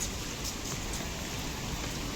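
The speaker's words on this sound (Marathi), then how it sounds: "पाऊस पडायला सुरुवात झाला आहे" Steady, faint rain falls in the misty Kedar valley near Kedarnath, an even hiss of drops with no breaks.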